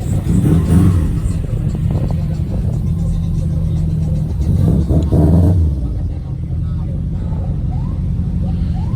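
Loud car muffler exhaust at an import car meet, a continuous rumbling drone with a couple of revving swells, heard close over background noise and music.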